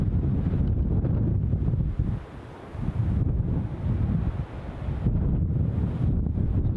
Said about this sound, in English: it can get windier than 50-60 mile an hour